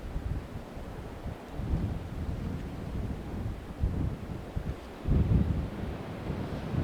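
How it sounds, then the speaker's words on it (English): Strong wind buffets the microphone in steady roaring gusts on a golf course, with louder bursts swelling near the end and no voices. "And this wind is ripping right now."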